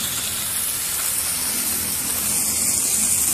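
On a cricket ground, a hose throws a long jet of water that sounds as a constant, loud hiss and rush, steady throughout and free of speech.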